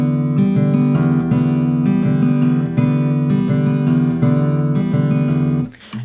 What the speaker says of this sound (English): So that at full speed would sound like this.